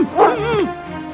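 A dog gives a short, yelping bark with a rising and falling whine, a single close cry lasting under a second before fading.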